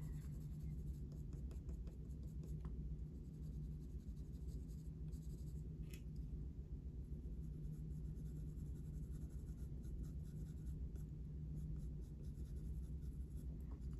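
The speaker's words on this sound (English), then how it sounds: "I'm kind of just letting my pencil brush across the surface, like, I'm hardly applying any pressure at all" A coloured pencil brushing very lightly across drafting film, a faint continuous soft scratch with small irregular strokes, close and quiet over a low steady background hum.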